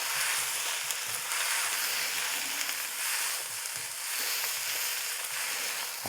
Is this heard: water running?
no